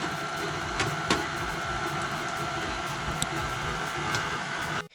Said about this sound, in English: As this continues mixing for a little bit, we will stop the mixer and scrape the sides of the bowl